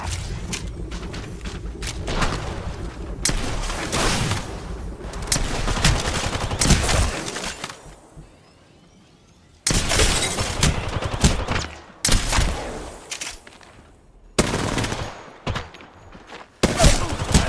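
Video game gunfire crackles in repeated loud bursts, with automatic volleys separated by short lulls and one near-silent gap partway through.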